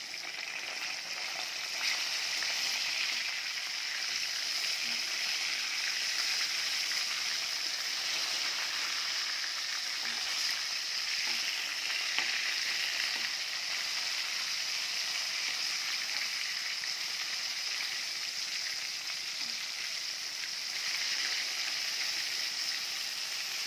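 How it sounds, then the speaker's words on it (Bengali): Marinated catla fish pieces sizzle in hot oil in a pan after being turned over, a steady, dense frying hiss that holds evenly close by with no talking. "মাছগুলো একটু ভাজা হয়ে গেছে, এবার উল্টিয়ে দেবো।"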